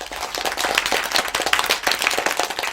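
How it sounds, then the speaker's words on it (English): A short burst of clapping and applause plays as a reward sound effect in a children's word-learning app, brisk and fairly close throughout. "you should get a round of applause as a reward."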